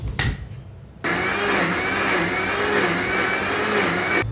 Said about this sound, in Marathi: थोडं थोडं पाणी वतून मिक्सरला लावून घेऊया